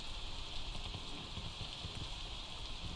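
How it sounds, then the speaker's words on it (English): Steady in-game rain in the PEAK climbing video game, a continuous dense hiss with soft pattering drops, constant and fairly loud throughout with no voices. "I need this rain to stop, and then I'll test."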